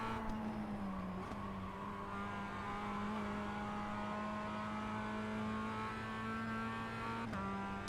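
A Mazda MX-5 race car engine revs hard down the straight at Summit Point Raceway in iRacing, a steady loud drone that rises in pitch with a brief gear-change dip near the start and another near the end.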